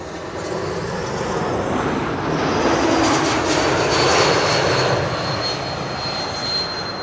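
An airliner with geared turbofan engines passes overhead on landing approach, a loud steady roar with a high whistling tone that swells and fades over several seconds, with no talking.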